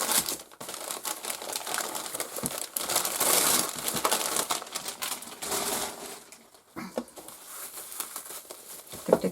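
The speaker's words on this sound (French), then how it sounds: "J'arrache le papier" Wrapping paper is ripped and crumpled off a small advent calendar gift. Close, irregular bursts of tearing and crinkling stop and start, with a few sharp rips and quieter rustling pauses in between. No one speaks.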